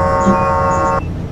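A truck horn blares in Euro Truck Simulator 2, one loud sustained tonal honk lasting about a second, cutting off abruptly and followed by the start of another blast.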